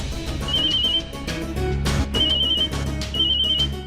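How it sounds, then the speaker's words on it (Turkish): A high electronic telephone ring repeats in short trilling bursts, sounding three times over a loud, busy background of music and noise. "Telefonun sesi buradan geliyor."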